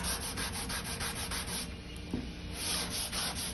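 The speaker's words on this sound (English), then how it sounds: "a flat sanding block with 220 sandpaper" A flat sanding block with 220-grit sandpaper rubs back and forth over a Western red cedar wood veneer on an MDF panel, producing close, continuous rhythmic scratchy strokes with no talking.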